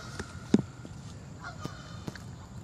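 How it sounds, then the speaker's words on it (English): Geese honk outdoors beside water where people are fishing, a few short, faint calls spread out over quiet background noise. "You hear the geese honking?"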